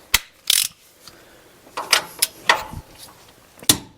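A wrench works the bolts on a C10 pickup's QA1 front suspension, making sharp ratcheting clicks and metallic clacks in irregular, separate bursts close by.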